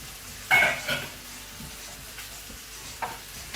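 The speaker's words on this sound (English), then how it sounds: "The mushrooms are cooking off nicely." Mushrooms frying in a pan for a vegan Fiji fusion curry sizzle softly, with a loud stirring clatter near the start and another brief scrape later.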